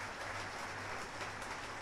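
A church congregation gives a round of applause to the Lord during a sermon, a steady faint wash of clapping with a low hum underneath.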